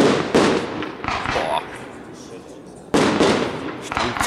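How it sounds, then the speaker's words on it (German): A dense volley of 45 mm seven-shot fire pots with bombettes crackles and pops outdoors over a field, then a lull, then another loud barrage of cracks and booms. "wir machen mit 45 mm 7 Schuss, Feuertöpfe mit Bombette"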